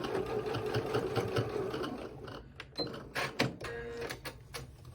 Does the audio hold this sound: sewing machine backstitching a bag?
yes